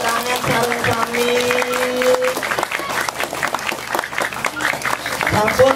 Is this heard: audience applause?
yes